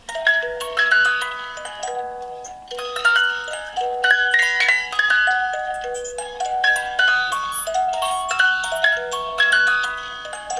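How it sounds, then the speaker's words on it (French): A child's toy music box plays a bright, tinkling tune of plucked metal notes at close range, repeating a simple melody with a steady rhythm and no talking. "Ensuite, ici, une boîte musicale."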